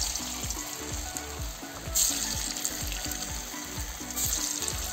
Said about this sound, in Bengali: এখন আমি এই মুঠেগুলো তেলের ভিতর দিয়ে দেবো।